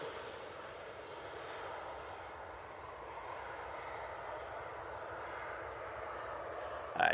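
An EasyJet airliner lines up on runway 05 left for departure, its engines a steady, moderately distant rumble and whine holding evenly, with a brief sharp sound right at the end.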